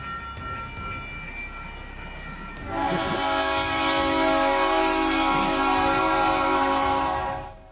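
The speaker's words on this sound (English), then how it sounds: "Good thing the train slowed down" A train at a railroad crossing sounding a loud sustained multi-tone horn after a few seconds of rumbling approach, the horn holding steady and then cutting off near the end.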